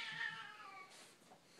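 A cat gives one drawn-out, wavering meow, fairly faint and alone, which fades into a quiet background.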